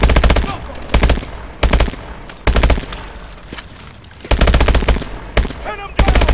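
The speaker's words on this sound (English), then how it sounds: "Open fire!" Bursts of automatic gunfire from Call of Duty Advanced Warfare, a combat mission firefight: several loud, dense volleys separated by short gaps, with a faint voice calling out briefly.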